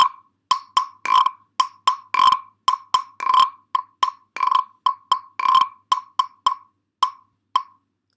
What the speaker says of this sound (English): And I can also tap it.